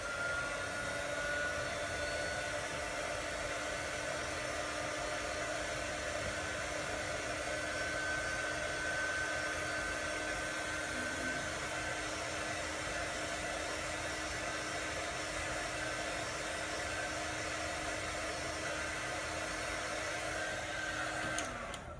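A hair dryer blowing over freshly brushed chalk paint, a steady close whir and hiss running unbroken for the whole stretch with no pauses, cutting off at the very end.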